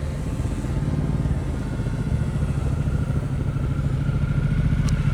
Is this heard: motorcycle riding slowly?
yes